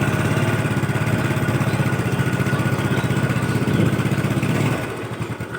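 A 2010 Yamaha Mio scooter with its stock exhaust runs steadily close by, a loud, slightly shrill buzzing putter with a fast, even pulse that softens and grows uneven near the end.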